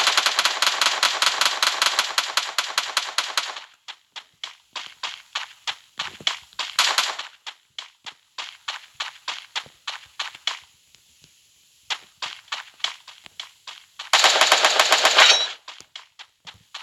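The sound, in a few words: gunfire in video game Free Fire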